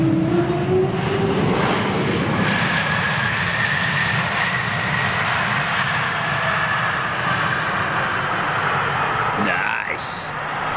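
A Swiss single-aisle jetliner at London Heathrow Airport gives a loud, sustained engine howl with a rising whine that carries steadily throughout, close and dominant.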